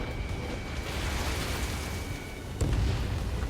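An explosion from a destroyed target in the flight combat game Ace Combat 7 rumbles as a low, sustained blast, with a second sharper boom near the end.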